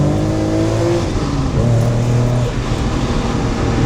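A 600-horsepower BMW E46 M3 roars loud and close under acceleration, its engine note rising and shifting pitch in a continuous, dense drone.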